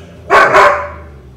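A dog gives a quick double bark, loud and close, then falls silent.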